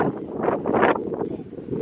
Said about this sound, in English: And it is windy out here today.